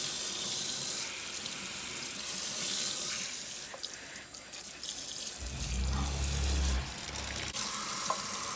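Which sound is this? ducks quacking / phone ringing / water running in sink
water running in sink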